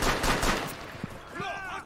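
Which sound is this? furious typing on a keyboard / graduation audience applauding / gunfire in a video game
gunfire in a video game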